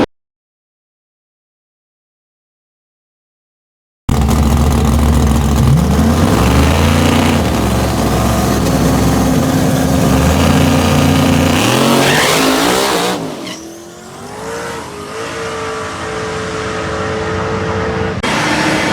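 A drag racing car launches at a dragstrip, its engine roaring loud and close as it accelerates hard, with gear-change steps and the tires rattling about a second in before the engine note drops off and recovers.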